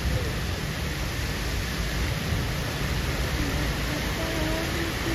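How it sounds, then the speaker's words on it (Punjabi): Heavy rain falling steadily across a flooded city on a morning, a dense continuous hiss with no breaks, loud and close. "ਬਰਸਾਤ ਨੇ ਕਿਆ ਬਾਤਾਂ ਕਰਾ ਰੱਖੀਆਂ, ਸਾਰਾ ਸ਼ਹਿਰ ਭਰਿਆ ਪਿਆ।"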